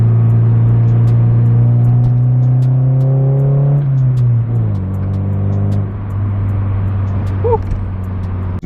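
A Honda Del Sol drives along the road with a loud, close engine drone from inside the cabin, its pitch climbing steadily, then dropping through a gear change and settling into an even cruise.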